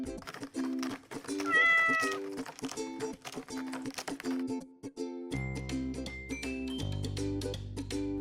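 A cartoon cat meows in a short rising cry over steady background music. Clicks and brief tones also sound in the mix.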